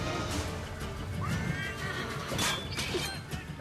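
A horse neighs and whinnies in the video game Assassin's Creed 3, with a loud rising whinny amid battle noise, faint hoofbeats and a brief crash, and no talking.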